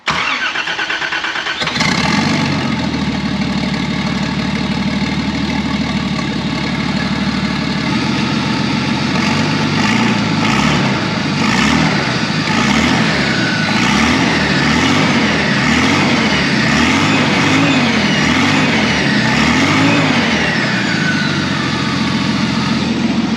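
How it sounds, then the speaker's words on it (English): A Toyota TB42 turbo engine cranks briefly, catches and settles into a rough, loud idle, then runs on with a rhythmic pulsing lope and slight rev fluctuations, close by and without talk. "let's fire it up and see what it does"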